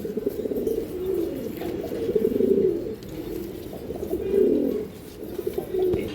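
Green-necked pigeons kept as breeding pairs coo in swelling, rolling bursts close by, with a faint flutter of wings among the steady murmuring.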